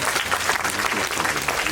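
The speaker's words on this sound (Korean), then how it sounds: "네, 박수 부탁드립니다." Audience applause at a film event in Korea, a steady dense patter of many hands clapping for under two seconds with faint crowd murmur beneath.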